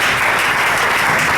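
Congregation at a Sunday church service applauding, a dense, loud burst of many hands clapping together, steady and close throughout the brief moment with no speech.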